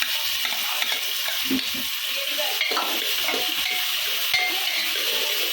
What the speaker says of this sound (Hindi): तेल गरम हो गया, प्याज डालेंगे।